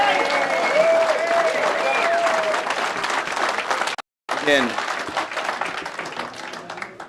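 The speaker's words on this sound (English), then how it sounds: "please hold your applause." Audience applause and scattered cheering at a public water board meeting, clapping mixed with voices, broken by a brief silent gap before clapping and talk resume.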